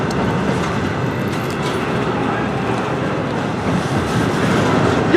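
The end of Norfolk Southern freight train V07 rolls past close by, giving a steady loud rumble of wheels and rail noise with faint clicking, running throughout.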